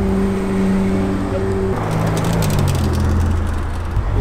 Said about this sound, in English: Look at the Lamborghini! That was sick! That was loud!